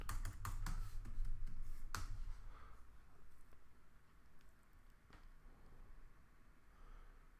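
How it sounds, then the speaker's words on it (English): Fingers tap quickly on a computer keyboard in a short close burst of clicks, then a few sparse keystrokes follow in a quiet room. "Let me just type it in."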